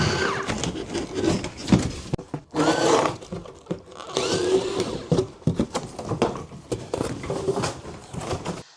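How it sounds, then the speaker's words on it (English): Cordless 4V electric scissors with SK5 blades chew through cardboard up to an inch thick, giving bursts of buzzing, crunching cuts separated by short pauses, close and fairly loud. "Cutting cardboard up to 1 inch with replaceable blades"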